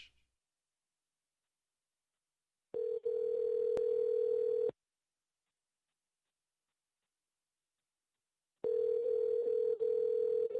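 Two long steady ringback tones of an outgoing telephone call, each lasting about two seconds and separated by a long silent gap, heard clearly and alone.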